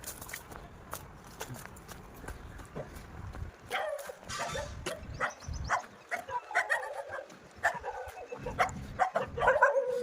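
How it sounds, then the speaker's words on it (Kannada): Several dogs bark in short, irregular bursts outdoors along a village road, fairly close, mixed with footsteps and scuffling movement. "ನನ್ನ ನೋಡಿದ್ರೆ ನಾಯಿಗಳೆಲ್ಲ ಓಡಿಸ್ಕೊಂಡು ಓಡಿಸ್ಕೊಂಡು ಬರ್ತಾವಲ್ಲ"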